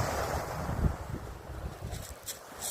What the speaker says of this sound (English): And that's the sound of the sea.